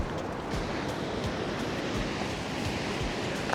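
Ocean waves crash against coastal rocks near a lighthouse in Australia, heard as a steady, loud roar of surf and spray with some wind rumble, continuous for a few seconds and without voices.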